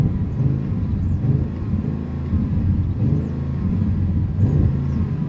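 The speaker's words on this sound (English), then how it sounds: "you can definitely still hear some pops and bangs and rumble from that V8" A 2022 Audi RS7 V8 with the optional sport exhaust revs repeatedly while parked, its deep rumbling engine swelling and falling steadily throughout, close and loud, with no talking.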